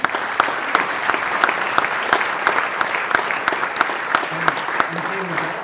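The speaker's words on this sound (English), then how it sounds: "So that means big applause." Audience applause at a KTM MotoGP team presentation, a steady wash of clapping with sharp individual claps standing out, and some talk and low tones briefly underneath near the end.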